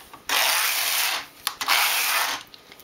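A domestic knitting machine carriage is pushed across the needle bed for two rows of a lace pattern, giving two long, close, rasping slides of about a second each with a brief clack between them, with no voices.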